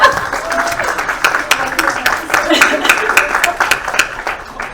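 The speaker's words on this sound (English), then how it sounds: "Round a round of applause," Audience applause at a book launch event, dense clapping with distinct sharp claps standing out, sustained and fairly loud for several seconds.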